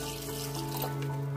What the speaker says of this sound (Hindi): इसमें पानी डालते हैं।